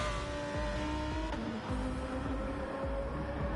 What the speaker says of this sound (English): driving the Porsche 911